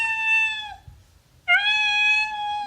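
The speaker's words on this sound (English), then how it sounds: "This is my cat." Cat meow sound effect accompanying a read-aloud of Eric Carle's children's book Have You Seen My Cat?: two loud, close, drawn-out meows separated by a short silence, with no talking.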